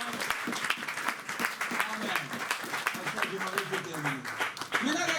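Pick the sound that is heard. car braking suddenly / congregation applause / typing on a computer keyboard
congregation applause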